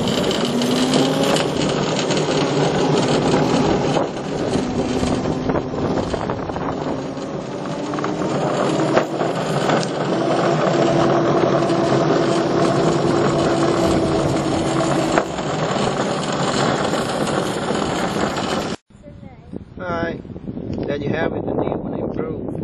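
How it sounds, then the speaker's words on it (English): A Razor 24-volt electric go-kart, modded to run on a Li-ion cordless tool battery, drives past with a steady whining motor hum and wind rush, loud and near, cutting off near the end; people talk over it. "Battery powered 24-volt go-kart."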